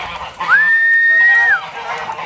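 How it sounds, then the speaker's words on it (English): Farm birds let out a single loud drawn-out honk lasting about a second, close by against faint background noise. "You birds are noisy."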